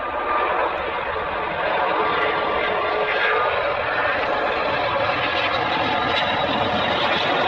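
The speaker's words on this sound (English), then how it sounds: "This Airbus A350 struggling to take off as it only has one functioning engine and half its usual power." An Airbus A350 on its takeoff roll with only one working engine, a loud, steady jet roar that holds close and unbroken throughout.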